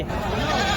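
Young crossbred goats bleat continuously in a short, busy burst at a livestock market, with voices mixed in nearby.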